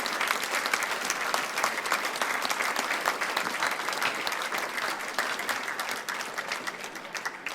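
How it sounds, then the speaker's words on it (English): Sustained applause from an audience at a 25-year club reunion in Wantirna, Victoria, honouring the club's original committee: dense, steady clapping filling the room for several seconds, fading slightly toward the end. "Big round of applause, that was the original committee."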